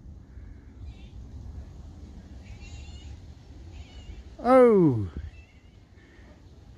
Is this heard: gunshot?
no